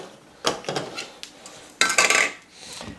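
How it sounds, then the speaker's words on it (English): A tea basket is lifted out of a Breville tea maker carafe and its lid is popped off, making two clusters of close clattering plastic and metal knocks with quieter handling between them. "just pull out the tea basket and pop off this lid"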